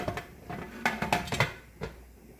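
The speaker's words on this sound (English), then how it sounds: "I'm going to put the lid on it" A metal lid goes onto a canning pot on the stove, where chicken broth is being canned. Several light clinks and taps of metal on metal ring out close up over a quiet kitchen background, with no voices.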